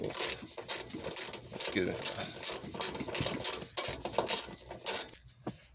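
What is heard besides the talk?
socket wrench loosening bolts on a 2007 Toyota Camry hybrid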